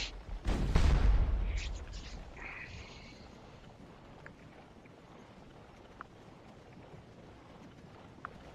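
One loud, deep cannon boom from Civil War artillery in the Scourge of War Chancellorsville strategy game, rolling off into a long fading rumble, followed by faint distant crackles of battle.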